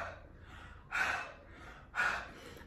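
Close breaths are blown into honey, with two distinct breathy exhales about a second apart over a quiet room, soft and unvoiced.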